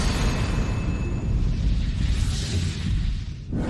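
Stone exploding in an animated fantasy scene, a sustained loud, rumbling blast with crackling debris that carries on for several seconds before cutting off with a sharp whoosh.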